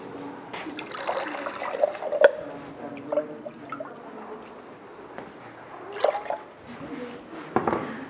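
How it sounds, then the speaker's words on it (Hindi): Water is poured into an acetic acid and sodium acetate buffer solution to dilute it. Soft intermittent splashes and drips sound close and quiet, with occasional louder pours and no clear talking. "थोड़ा सा इसमें पानी ऐड करके डाइल्यूट कर ले रहे हैं"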